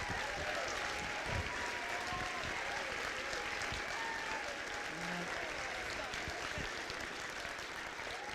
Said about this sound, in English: How about a round of applause for this group?